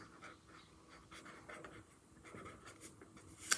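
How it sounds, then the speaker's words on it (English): A pen writes in a journal with soft scratchy strokes in short bursts, close and faint, with no talking. "So I'm just gonna write name."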